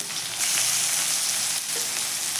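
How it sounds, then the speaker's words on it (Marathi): Chopped onion fries in hot oil tempered with cumin and asafoetida over a low flame, making a steady, close, continuous sizzle with no talking. "कांदा आपण बारीक गॅसवरती छान असा थोडासा परतून घेऊयात अगोदर हलकासा"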